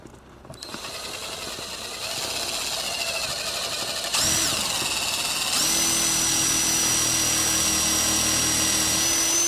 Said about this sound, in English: We drill that other hole.